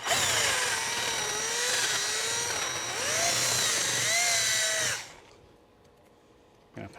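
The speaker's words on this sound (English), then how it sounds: "let's just drill that out to be a bit bigger to fit this slightly larger cable" A power drill whines loudly for about five seconds, its pitch wavering as it bores out a hole to fit a larger cable, then stops abruptly, leaving quiet with a small clunk at the end.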